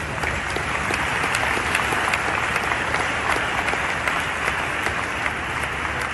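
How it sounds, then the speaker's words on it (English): Sustained audience applause at a travel industry event, a dense steady wash of many hands clapping at even loudness throughout with no break. "Big applause for everyone."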